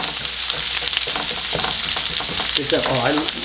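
Onions frying in a pan, a loud steady crackling sizzle throughout, close up, with a brief voice murmuring under it near the end.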